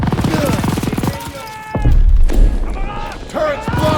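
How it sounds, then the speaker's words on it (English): Machine gun fire in the Call of Duty WWII D-Day mission comes as loud, rough bursts in the middle, mixed with shouted voices before and after. "MG's hitting us!"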